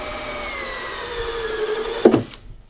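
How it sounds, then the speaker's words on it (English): A drill boring a hole near the top of a plastic rain barrel, a steady close whirring that rises in pitch before a short bite as the bit breaks through and the motor winds down. "Drill a hole a couple of inches from the top for the overflow fitting."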